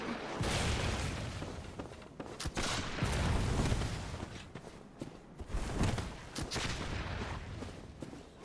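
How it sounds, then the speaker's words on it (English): Cannon fire in the video game Bloodborne, with heavy booming blasts and rumbling explosions over dense, continuous battle noise that stays loud for the whole stretch. "They're firing a cannon at me."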